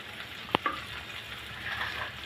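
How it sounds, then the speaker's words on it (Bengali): Kalonji seeds are dropped into hot soybean oil, producing a soft, steady sizzling hiss with one sharp metallic clink near the start. The sound is close and fairly quiet, with no voices. "তেলটা গরম হলে দিয়ে দেবো ফোড়নে কালি জিরা"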